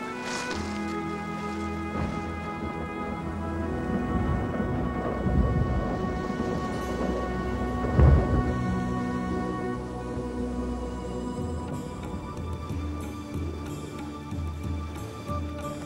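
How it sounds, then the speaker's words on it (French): A stormy children's cartoon scene with steady rain and rolling thunder throughout, swelling around the middle with a sharp, heavy thunderclap, all without speech. "Attendons que la tempête soit passée."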